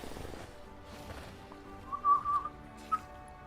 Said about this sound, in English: It's so hard to whistle when your lips is dry.